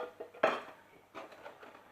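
Makeup brushes knocking and clattering inside a box, a few quick light rattles with one sharper clack, close and alone without talk.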